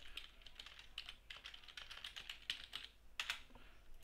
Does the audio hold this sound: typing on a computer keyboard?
yes